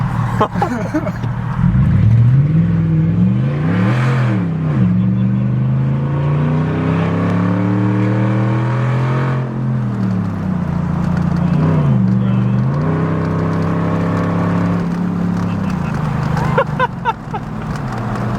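A loud straight-piped Gen 1 Ford Raptor pickup truck with open headers revs up and down repeatedly, roaring and rumbling close by with a raspy, unmuffled tone.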